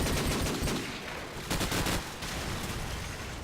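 Submachine gun fire and a grenade blast in Call of Duty 4 competitive multiplayer, rapid bursts of gunfire in quick succession with a heavier burst midway, dense and continuous.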